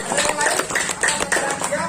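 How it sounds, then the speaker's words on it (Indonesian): Students clapping together in a school classroom after a pupil answers a teacher's question about school rules, a brief burst of scattered hand claps with chatter mixed in. "Bagus, tepuk tangan."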